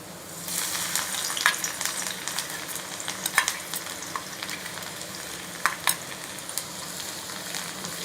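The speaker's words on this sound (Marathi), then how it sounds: "लसणाला एक मिनिट आपण परतून घेऊया" Chopped garlic sautés in hot oil for a soya chilli dish, giving a steady close sizzle and crackle, with light stirring clicks and a few sharper spatters scattered through.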